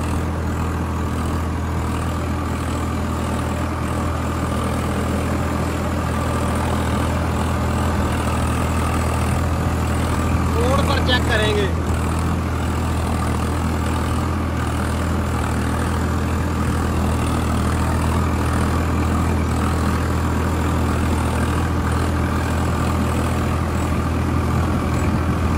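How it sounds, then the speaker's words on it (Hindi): A Swaraj 855 4x4 tractor engine runs steadily at 1600 RPM, a loud, constant low diesel drone close by, with a brief higher mechanical whine midway. "भैया, मान के चलो 1600 पर आ गए RPM।"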